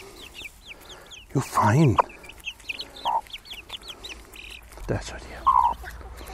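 Chickens and young chicks cluck and chirp while pecking at mealworms, with a loud burst of clucking near the start and scattered short calls later, under someone speaking German.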